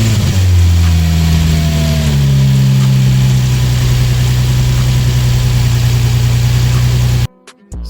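A Nissan G35/350Z engine cranks and catches with a brief rev, then settles into a loud, steady close-up idle with a constant low hum before cutting off abruptly near the end.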